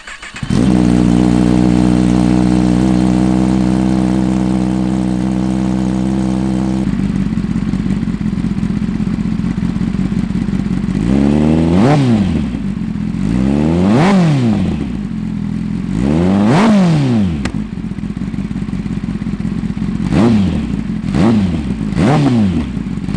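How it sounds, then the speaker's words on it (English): A 2021 Kawasaki ZX-10R sport motorcycle with a loud aftermarket Two Brothers exhaust idles with a steady burble, then revs sharply several times, each blip rising and falling, close and loud. "here is what the bike sounds like now with the new Two Brothers exhaust"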